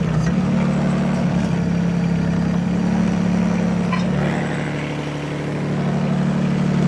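Mini excavator engine running steadily up close as the machine drives with reversed controls near a trailer ramp, a constant low drone with a slight dip in level partway through.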